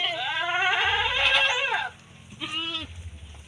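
A goat in a goat pen bleats loudly and nearby, one long wavering call and then a shorter second bleat after a brief pause, with some background noise from the pen.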